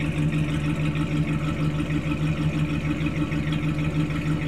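A 1968 Mercury Park Lane idles with factory dual exhaust, a deep, steady rumble with an even low pulse, close and loud throughout with no voices.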